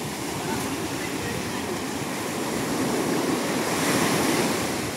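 Sea waves at Poompuhar beach roll in with a continuous loud wash of surf and wind that swells toward the end, with no break in the roar.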